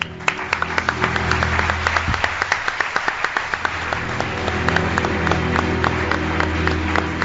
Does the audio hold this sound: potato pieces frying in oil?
no